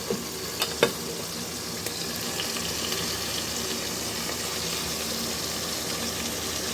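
Hilsa fish cooking in a covered kadai gives a steady, even sizzle of frying oil throughout, with a couple of brief sharp clinks near the start and no voices.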